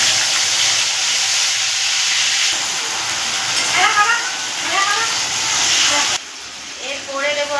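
Ginger, cumin and green chilli paste hisses and sizzles in hot oil, a loud, steady frying sizzle that drops abruptly near the end, with faint kitchen clatter.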